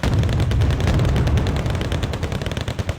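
Dense, sustained gunfire and rattling bursts from Wargame: Red Dragon, a war strategy video game, loud and continuous with rapid overlapping shots.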